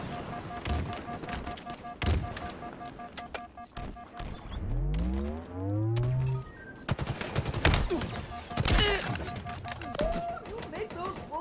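Rapid automatic gunfire and explosions in the video game Halo Infinite, loud dense bursts with sweeping electronic tones mixed in, under steady chatter from players.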